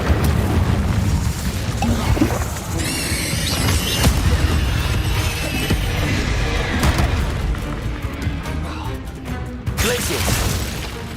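Fiery spell blasts from Incendio being cast in the video game Hogwarts Legacy, a dense run of booming bursts and crackling impacts layered with game effects and music.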